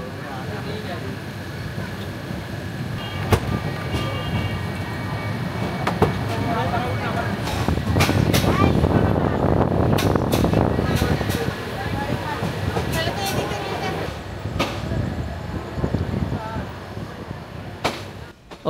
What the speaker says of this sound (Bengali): আবারও যাত্রা শুরু করলো আমাদের ট্রেন।